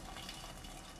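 In a home kitchen, water is poured into a cooking pot over frying chopped potatoes, a soft continuous gushing rush heard faintly and alone.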